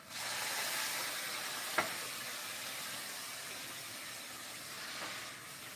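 Curry sizzles and fries in a pan with a steady, soft hiss, a brief sharp tick partway through, and faint bubbling underneath, continuous and without voices.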